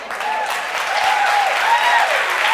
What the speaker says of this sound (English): I really love all this applause